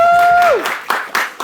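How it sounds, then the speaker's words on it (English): A panel-event audience breaks into applause as a sustained tone slides down and fades, with claps swelling in loose bursts for about a second. "Round of applause for Ray."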